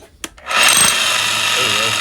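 A Hercules 12 amp rotary hammer drill starts after a few brief clicks and then runs steadily, a loud close buzzing whine with a rapid hammering texture.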